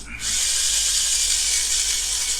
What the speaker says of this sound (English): I'll drill this rivet out